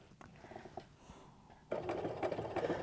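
Domestic sewing machine doing free-motion quilting on a stipple meander, stitching in place at first: a soft, slow mechanical patter that jumps to a louder, steady, fast whir partway through, close by.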